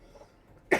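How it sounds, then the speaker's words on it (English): A single sharp cough from a person with a bad cough bursts out after a moment of near silence. "I just have a bad cough."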